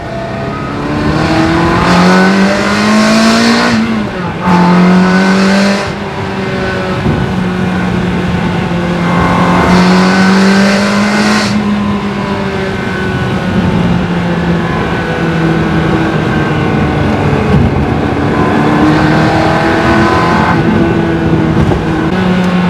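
A Ferrari 360 Spider with the F1 automated gearbox revs loudly up and down through several gears, its engine note rising and falling with sharp blips on downshifts, close and continuous for over twenty seconds.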